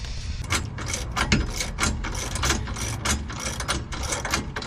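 A torque wrench ratchets steadily while tightening a rear sway bar on a Honda Fit, with rapid repeated close metallic clicks running throughout, no talk.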